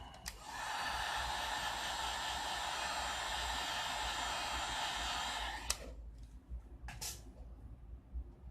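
Heat gun or hair dryer warming an LG Mate 9 phone screen during LCD replacement, a steady close blowing whoosh for about five seconds before it cuts off, followed by faint handling clicks.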